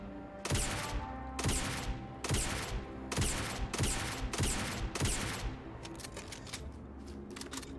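Shotgun fire in the video game Starfield, six loud, booming blasts in quick succession about every half-second, followed by lighter rattling clicks and shell noises as the firing stops.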